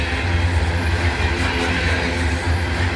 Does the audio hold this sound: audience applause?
no